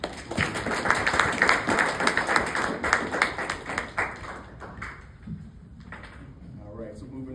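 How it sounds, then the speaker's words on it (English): A room of attendees at a New Jersey township council meeting claps steadily for several seconds, a moderately loud burst of applause that thins out and fades toward the end. "let's give both of those individuals a round of applause"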